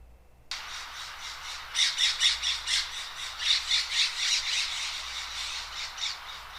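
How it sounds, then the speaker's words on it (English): Harsh, nasal scrub jay squawks trade back and forth in a rapid run of calls beside a peanut feeder in Knickerbocker Canyon, Big Bear Lake, California, fairly close and clear over a quiet background. "You can hear their nasal call and response of some scrub jays next to a peanut feeder"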